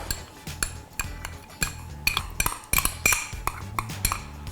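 Matcha cake batter sweetened with honey is whisked in a bowl, producing busy, irregular metallic clinks and scrapes of the whisk against the bowl, close and fairly loud.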